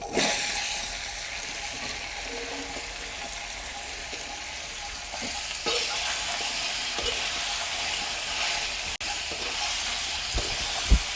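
Chopped kundru (ivy gourd) cooks in a pan over an outdoor fire in a rural ravine hermitage, giving a steady close sizzling hiss with a few soft knocks and stirring clatters near the end.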